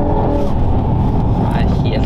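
A manual Volvo V70 estate car accelerates with a loud, steady engine roar that holds throughout, while people talk over it inside the car.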